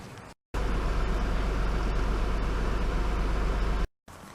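A 1992 Nissan Skyline R32 fires up and settles into a steady, close, droning idle after a manual gearbox swap, the engine note continuous and even with a short gap at each end.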